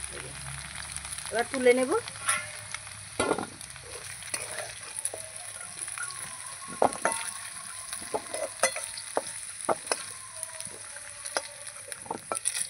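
Gathi kochu (taro) frying in a pan, with faint sizzling and intermittent stirring and scraping clatter close by, under a brief spoken phrase.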